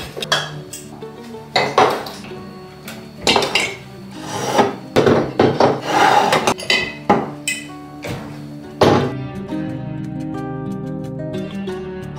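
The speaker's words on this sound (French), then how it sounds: "je vais les laver et let's go" Old glass storage pots are handled and washed in a kitchen, giving repeated close clinks and knocks of jars and utensils in irregular bursts, then a sustained ringing tone as one settles.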